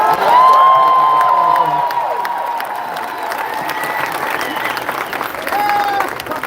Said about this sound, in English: They're cheering for you again, Eric.